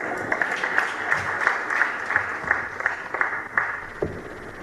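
An audience at Uganda Water and Environment Week applauds in a hall, with brisk clapping that swells in uneven bursts and carries on throughout, fairly loud.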